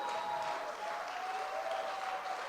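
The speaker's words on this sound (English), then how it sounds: "Don't just clap for me." Audience applause after a speech at a student summit event, a steady wash of many hands clapping throughout, moderately distant and without pauses.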